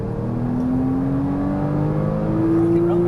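A 2014 Porsche Cayman S engine accelerates on a race track, a loud steady drone with its pitch climbing smoothly as the car pulls down a straight.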